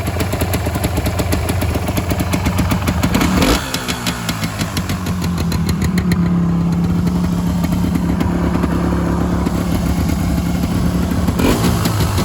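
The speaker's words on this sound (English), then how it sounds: "It ticks over lovely." Two-stroke trail bike engine idling steadily after a cold kick start, a continuous close, even burble with a brief dip partway through and no talking over it.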